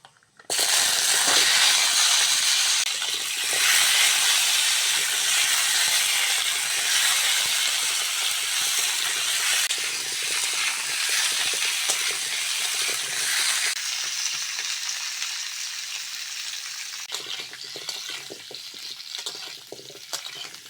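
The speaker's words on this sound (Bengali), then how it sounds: "জলপাইগুলো তেলের মধ্যে ভালো করে ভেজে নিয়েছি" Whole green olives frying in oil for a Bengali olive pickle, with dried red chillies and five-spice tempering, give a steady loud broadband sizzle that fills the whole stretch, easing slightly near the end.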